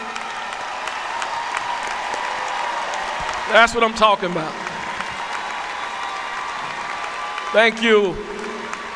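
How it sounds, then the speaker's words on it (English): A commencement crowd applauds first-time donors at Florida A&M, a steady wash of clapping across the hall while a speaker talks over it twice. "we're going to give you a round of applause."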